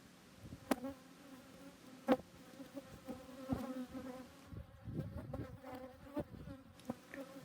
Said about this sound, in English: We can see a few bees walking around with pollen in their pollen pockets.